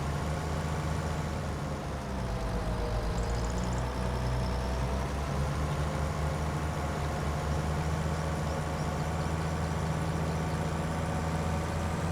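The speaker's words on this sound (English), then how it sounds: "There's our feeding robot on the go." A livestock feeding robot runs in the video game Farming Simulator 25, giving a steady, even mechanical engine hum that holds at one level throughout, with no voices.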